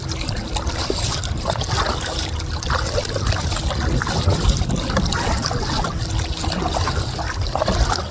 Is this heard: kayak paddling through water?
yes